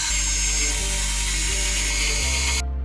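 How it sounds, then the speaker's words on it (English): A power screwdriver runs continuously, whirring loud and close as it backs screws out of the covers on a Lenovo ThinkCentre all-in-one computer, then cuts off near the end. "Time to remove the screws from the covers."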